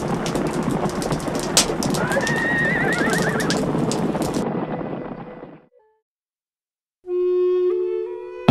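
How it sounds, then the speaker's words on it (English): A herd of horses in a canyon: loud neighing and whinnying over a dense patter of hooves for several seconds, then a sudden cut to silence, followed by a sustained tonal musical sound. "you'll hear what sounds like a herd of horses running through this canyon"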